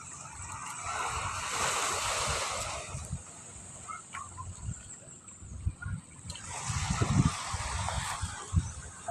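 Seaside surf washing onto the shore, two broad swells of crashing wave noise rising and falling, with wind buffeting the microphone and no talk.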